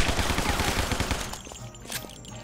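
Gunfire in the video game Guns, Gore & Cannoli, with a dense burst of rapid shots at the start that fades into quieter game sounds.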